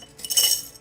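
Crocheting-project buttons drop into a container, making a short bright clinking rattle under a second long. It is close and fairly loud, with no talking.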